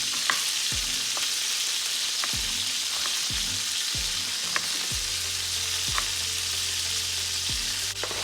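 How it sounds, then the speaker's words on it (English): Mushrooms, snap peas and onion fry in hot steak grease in a pan. A loud, steady sizzle runs throughout, with soft repeated knocks and scrapes from stirring every second or so. "into that nice hot grease from our steak, we're gonna go in with our mushrooms"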